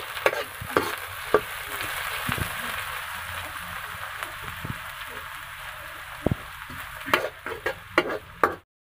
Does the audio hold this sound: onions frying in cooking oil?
yes